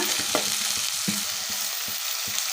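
Chopped onions fry toward golden brown with a loud, dense, steady sizzle, and a spatula knocks and scrapes against the pan in a loose rhythm about twice a second, with no voices.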